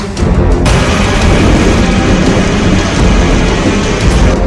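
Heavy rain pours steadily on a Rajasthan street, a dense continuous hiss with low rumbling thunder underneath, loud and close throughout with no voices.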